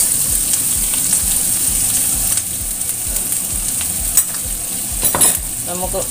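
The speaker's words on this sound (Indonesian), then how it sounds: "Tumis sampai sedikit tercium bau harum." Food stir-fries steadily in a hot pan while a utensil scrapes and stirs in a regular rhythm, close up, with a few clinks near the end.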